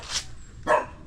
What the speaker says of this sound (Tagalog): Yung kaso may aso.